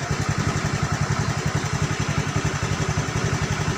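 A Honda Beat scooter engine runs just after a kick start and holds a fast, even idle with a rhythmic putter and light mechanical clatter. It is close and fairly loud, and no one talks over it.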